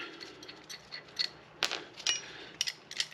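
Metal flaring tool on a brake line being screwed out on a driveway, giving a series of faint, irregular mechanical clicks and ratcheting ticks, close and quiet, with no talk.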